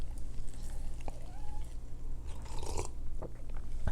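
A short, thin meow rises briefly over a steady low hum, followed by faint chewing and crunching sounds nearby.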